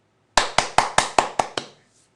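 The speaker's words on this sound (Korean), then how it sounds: "그런 의미로 오늘 우리 박수 한번 치겠습니다" Seven sharp handclaps ring out in an even, quick rhythm in an indoor gathering, close and clear, then stop, leaving silence.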